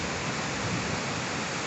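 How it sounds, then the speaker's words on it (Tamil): Water pouring from the spillway of the Mudalamada Chulliyar Dam, a dense continuous roaring rush like a waterfall, steady and loud throughout with no voices. "3 ஸ்லைஸ்லையும் தண்ணி வந்து வெளியில் விழுகும்போது பார்த்திங்கன்னா இந்த தண்ணி அருவியாக மாதிரி விழுகுது"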